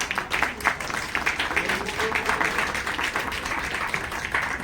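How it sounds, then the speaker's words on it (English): Audience applause at an event at ITC Kakatiya in Hyderabad, a steady patter of many hands clapping at moderate volume for several seconds. "A big round of applause, please."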